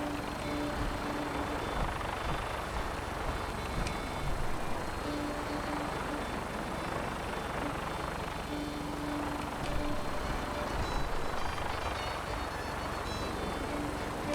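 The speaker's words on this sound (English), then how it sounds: "Yeah, that's the gunship they want you to get on." A gunship helicopter in the video game Fallout 4 makes a steady, continuous rotor and engine drone with a rhythmic thumping pulse that holds at an even loudness throughout.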